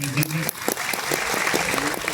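Loud, dense applause from a large audience at a public event, continuous throughout with a few individual sharp claps standing out.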